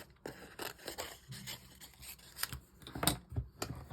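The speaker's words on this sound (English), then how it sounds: "And we'll have to cut this one out." Scissors snipping paper for a handmade tri-fold card, a string of short crisp cuts and rustles at close range, irregular in rhythm, with no talking.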